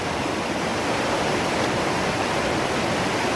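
River water flows steadily near a driving class in Jamaica, a close, loud, unbroken broadband rush with no pauses or voices throughout.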